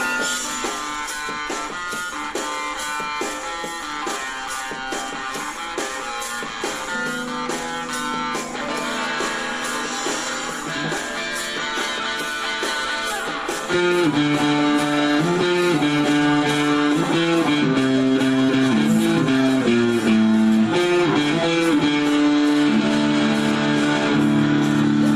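A picked electric guitar playing a chorus riff rings out over a busy band mix, getting louder and more melodic midway through, with no talking.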